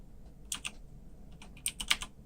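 Keys tapped on a computer keyboard while entering a CPU core voltage in the BIOS of a Ryzen 1700 PC, two short bursts of close, crisp clicks with a quiet gap between them and no talk.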